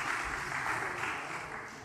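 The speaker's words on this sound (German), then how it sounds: "Da kann man auch mal klatschen." Applause from an audience in a council chamber during a municipal meeting, a steady dense wash of clapping from many hands, moderately distant and even throughout with no speech over it.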